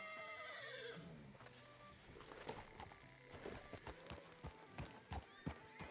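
A video game horse whinnies loudly at the start, followed by steady clip-clop hoofbeats and faint footsteps, with no one speaking.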